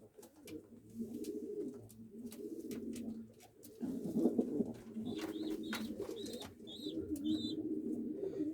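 Pigeons coo repeatedly in a loft, soft low calls layered over a steady murmur of the flock, with a few higher chirps and wing sounds near the end, no talking.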